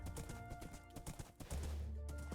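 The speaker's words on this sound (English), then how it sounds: "Let's take our horse this time and go the opposite direction." Horse hooves clip-clop in the Minecraft video game, a quick irregular run of hollow hoof taps at close range, followed by a low sustained rumble, with no talk.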